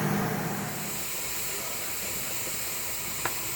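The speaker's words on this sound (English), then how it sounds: "now we're getting a pretty good spout of steam here" Steam hisses steadily from a pressure canner being used for home canning meat, a continuous broad airy rush with one small click near the end and no talk.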